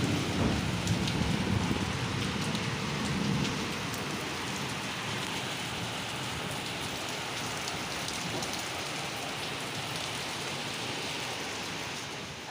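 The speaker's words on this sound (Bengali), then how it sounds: "এখনও বৃষ্টি হয়ে যাচ্ছে" Steady, close rain pours outside during an evening thunderstorm with lightning, a dense continuous hiss that stays even throughout with no voices.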